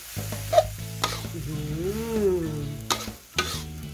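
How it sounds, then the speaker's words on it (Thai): Instant noodles and mussels being stir-fried in a pan, drunken-noodle style, with a spatula scraping and stirring through a steady sizzle, a few sharp clanks against the pan, and a faint pitched tone underneath. "แล้วก็จะผัดไปแบบนี้แหละค่ะ"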